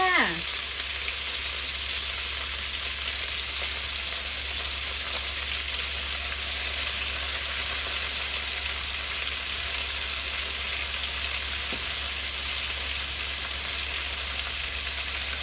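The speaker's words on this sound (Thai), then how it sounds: "ผัดเส้นอุด้งค่ะ" Udon noodles stir-frying with vegetables in a hot pan give a loud, continuous sizzle close by, with a steady hiss throughout.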